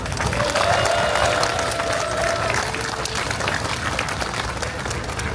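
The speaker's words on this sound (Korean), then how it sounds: "큰 박수 부탁드립니다" A large crowd at an outdoor protest rally in Seoul over a school site bursts into sustained, dense applause that holds steady and loud throughout, with scattered cheers mixed into the clapping.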